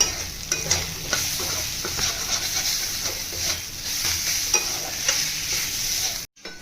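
Garlic and ginger sauté in a pan with chili powder, turmeric and ground black pepper, a steady close sizzle broken by repeated scraping stirs, continuing until an abrupt cut near the end.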